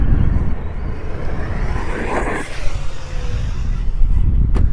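An Arrma Big Rock 4S RC truck driving and launching off a jump, its electric motor whining and rising in pitch, with tires and wind noise, then a sharp landing thud near the end.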